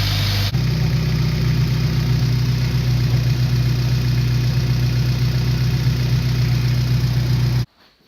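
A Honda Civic engine idles after a cold start, a steady loud low hum with a constant drone that runs evenly for several seconds before cutting off abruptly near the end, with no talk.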